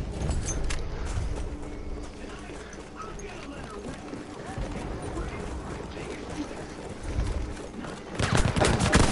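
The MP18 Trench submachine gun fires in the video game Battlefield 1, scattered bursts and shots within a busy battle mix, with louder sharp reports toward the end and voices talking.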